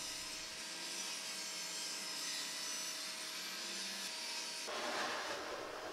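A table saw cuts firewood into strips, giving a loud continuous whine and rasping hiss that stays steady and then changes tone near the end as the cut finishes, with no talking.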